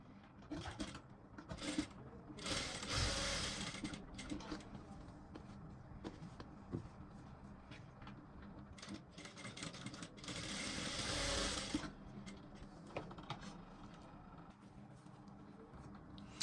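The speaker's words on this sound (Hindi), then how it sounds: "इस प्रकार से इसको सिलते हैं। बाकी डार्ट को भी इस प्रकार से लगाते जाइए" A sewing machine stitches darts on a blouse, running in close, moderately loud bursts with short pauses between them and no talk.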